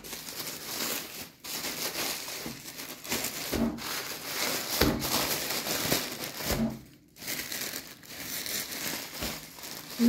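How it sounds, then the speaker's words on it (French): Bubble wrap around a pot is crumpled and crinkled while a package is unwrapped, a close, continuous crackling rustle with brief pauses and a few louder handling bumps, no talking. "Le pot est recouvert de papier bulle."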